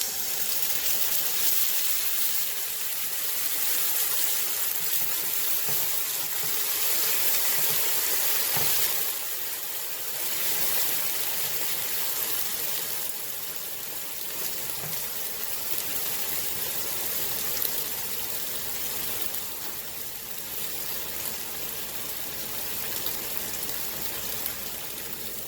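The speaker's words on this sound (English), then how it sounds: "Add little water." Water poured into a pan of frying brinjal hisses and sizzles steadily, a broad close wash of bubbling that rises and eases slightly over about twenty-five seconds, with no voices.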